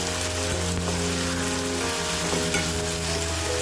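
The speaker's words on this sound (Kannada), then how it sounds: "ಜೊತೆಗೆ ಸೌಟಾಡಿಸಿ" Chopped tomatoes frying in oil in a pan while being stirred, giving a steady close sizzle with soft scraping of the spoon and no talking.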